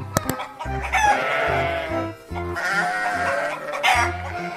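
Around a rural farmhouse yard, a goat bleats and chickens cluck and crow in short, close calls over a steady bed of background music.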